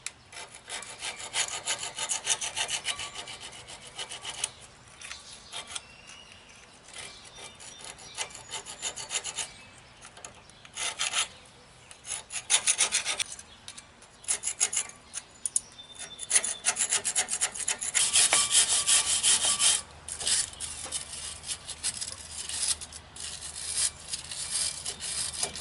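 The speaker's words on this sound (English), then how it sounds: "So I'm going to get a sharp scraper and a wire brush." A sharp scraper and a wire brush scour rust off a GMC or Chevy 4x4 dually brake caliper mount in close, gritty strokes, with irregular bursts of harsh scratching and no talk.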